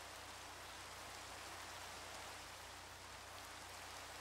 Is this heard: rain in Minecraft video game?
yes